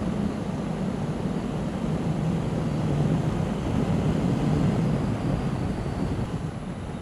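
A motorcycle with the old 900 engine and five gears cruising along, giving a steady, loud, unbroken drone mixed with heavy wind rush, with no speech over it.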